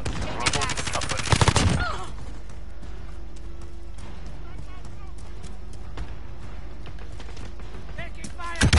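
Rapid automatic gunfire in Call of Duty: Modern Warfare, a loud dense burst of shots in the opening two seconds, then quieter scattered in-game combat noise and footsteps, with a voice talking over parts of it.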